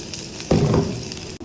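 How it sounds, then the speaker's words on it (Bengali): Sliced onions frying in hot oil for biryani beresta, a steady sizzle that swells suddenly as they hit the pan, then crackles on close and fairly loud before a brief break. "এখন এই যে পেঁয়াজের বেরেস্তাগুলো করে নিই।"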